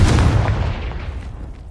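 A Confringo spell blast in a Hogwarts video game, a deep booming explosion that hits at once, loud and close, then rolls off into a fading rumble.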